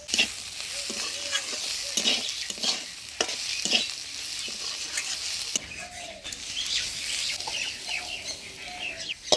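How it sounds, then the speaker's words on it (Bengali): Potatoes, onion stalks and carrots fry in a covered pan, a steady sizzle broken by stirring scrapes and knocks, with faint birds or fowl calling in the background. "আলু, পেঁয়াজ কলি আর গাজর ঢাকা দিয়ে ভালো করে ভাজিয়ে নিলাম"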